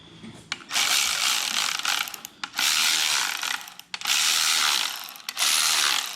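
A hand ratchet tightens bolts on an engine bottom-end assembly in several bursts of fast clicking, separated by short pauses, close and loud, with no talking.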